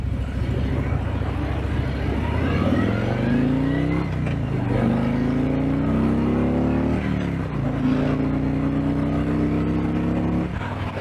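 A Harley-Davidson Street Glide motorcycle accelerating on the road, its engine loud and steady throughout, rising in pitch through several gear changes with brief dips between shifts, heard close over wind noise.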